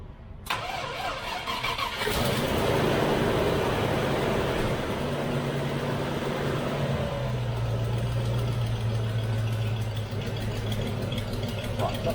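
A car engine cranks and starts, then settles into a steady mid-pitched running idle that continues throughout, close by, with someone talking over it.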